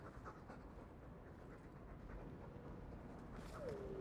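Dog panting in the fantasy role-playing game Dragon Age II, a steady quiet rhythmic breathing over a constant low ambient bed, with a faint tonal game sound near the end.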